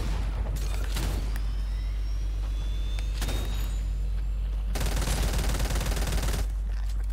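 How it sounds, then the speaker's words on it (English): Loud sustained bursts of charge SMG fire in the Fortnite video game, three rapid volleys separated by short pauses over a constant low rumble. "Watch it with the charge SMG. Right, shoot it."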